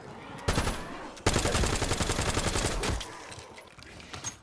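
Gunfire in Black Ops 7 Zombies: a short burst, a pause, then a longer run of rapid automatic fire lasting about two seconds, then fading with a few scattered shots.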